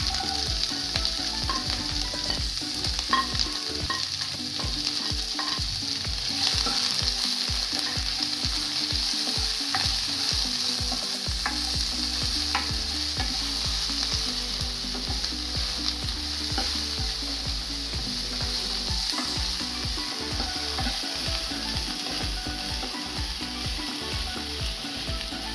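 Coconut pieces and shallots fry in a pan for a Kerala clam stir fry, a continuous close sizzle broken by the scrape and clatter of stirring.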